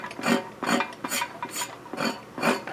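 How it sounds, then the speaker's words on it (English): Someone scrapes the inside of a tire before a repair, making six or seven rhythmic rasping strokes, evenly spaced and close, with quiet pauses between them. "So we're going to scrape it."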